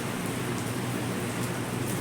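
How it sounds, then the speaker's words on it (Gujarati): Steady afternoon rain falling outside a shop, a dense, even hiss of drops close by with no pauses. "બપોર પછીનો 3 વાગ્યાનો વરસાદ ચાલુ છે"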